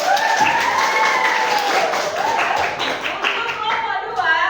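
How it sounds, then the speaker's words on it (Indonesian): A classroom of people claps steadily for several seconds, a dense, even patter of applause that stays fairly loud throughout. "Tepuk tangan."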